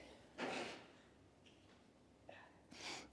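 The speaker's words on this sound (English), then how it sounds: "Excuse me, I just need to blow my nose." A person with a cold blows their nose indoors: two short, quiet, breathy bursts separated by a near-silent pause.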